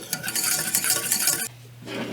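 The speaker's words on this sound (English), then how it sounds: "And just stir this around till it's mixed together." Honey mixture stirred in a pan over medium-low heat, a busy scraping, clattering stir for about a second and a half, then quieter with a low steady hum beneath.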